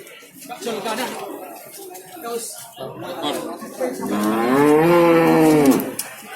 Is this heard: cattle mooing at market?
yes